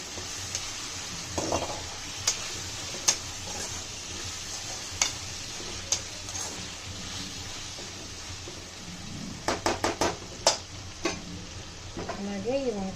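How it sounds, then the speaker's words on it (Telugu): Prawns go into a hot frying pan and sizzle steadily while being stirred, with sharp metallic scrapes and taps of the spoon against the pan recurring throughout, a quick cluster of clinks near the end. "ఇప్పుడు దీంట్లో ఈ రొయ్యలు వేసేస్తాను."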